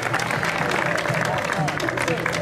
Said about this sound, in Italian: Quindi un applauso a Vincenzo, ragazzi, dai!